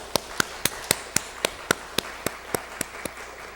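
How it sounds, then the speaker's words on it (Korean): A Korean church congregation claps in unison, a crisp, evenly spaced beat of sharp claps about four per second that holds a steady rhythm throughout. "우리 모든 영광을 살아계신 하나님께 힘차게 우리 박수를 올려드리겠습니다"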